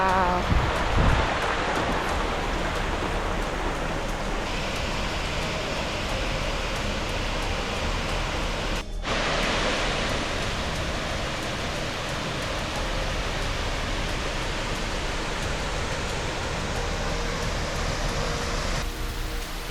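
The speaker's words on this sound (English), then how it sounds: "You can walk right up to this waterfall." A waterfall in Idaho, heard near its base, roars steadily from start to finish, a dense, close wash of falling water with no gaps and no voices.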